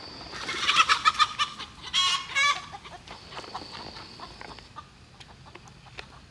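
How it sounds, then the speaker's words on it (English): Backyard chickens cluck loudly and close in quick bursts, a few squawky calls up front giving way to quieter scattered clucks, with no talking. "there's a cat trying to attack my chickens."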